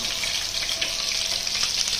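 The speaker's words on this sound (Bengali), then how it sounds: "এটা অরিজিনাল সরিষার তেল দিয়ে ভাজা" Fish frying in mustard oil, a steady bright sizzle with fine crackling and popping that holds loud and even throughout, with no talk.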